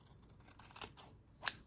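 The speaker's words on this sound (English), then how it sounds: "Nice sharp scissors." Sharp scissors snip through cotton wick while a vape coil is being wicked, giving a few faint brushing cuts and one crisp, close snip near the end.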